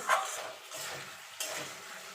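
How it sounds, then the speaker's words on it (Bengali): Potatoes coated in spices are stirred in a hot pan, the utensil scraping in three soft bursts over a faint sizzle, close and fairly quiet with no talking. "ভালো করে নাড়াচাড়া করে নেব।"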